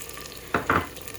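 Garlic and ginger paste hitting hot oil with browned onions in a pan, giving two quick bursts of sizzling and stirring against a faint steady background, close and brief.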